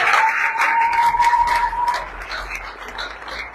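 A church congregation applauds together, a dense wash of clapping close by that holds steady for a few seconds, with a brief sustained tone near the start.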